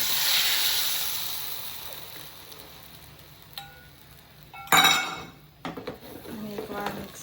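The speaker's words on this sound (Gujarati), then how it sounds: "અને એકવાર મિક્સ કરી લઈશું." A spoon stirs gram-flour kadhi batter with cumin and asafoetida in a pot over the stove, giving soft scraping at first, then louder clattering knocks and clinks of utensil against metal toward the end.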